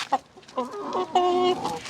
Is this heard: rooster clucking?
yes